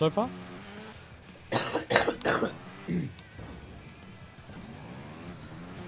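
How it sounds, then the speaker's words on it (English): A person coughs in a harsh cluster of three or four loud bursts, with a throat-clearing rasp after them. Casual talk runs before and after the coughs. "No, this is coughing."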